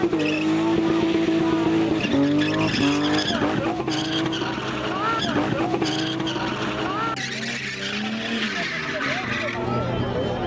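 Car spinning in place with loud, sustained tire squeal and skidding, engine revving throughout; a crowd or commentary voices are audible underneath.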